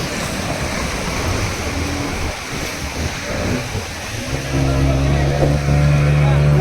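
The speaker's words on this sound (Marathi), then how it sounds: "बोट ड्रायव्हिंग आहे हे बघा मित्रांनो" A motorboat engine drones steadily while a boat is driven off Kovalam beach in Kerala, growing louder and steadier toward the end, with wind and water noise throughout and voices talking over it.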